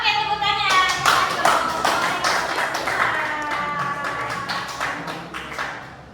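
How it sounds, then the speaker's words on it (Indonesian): A group in a classroom claps hands together, a burst of quick, overlapping claps that starts loud and tapers off over several seconds, with voices and children's chatter mixed underneath. "Oke, tepuk tangan."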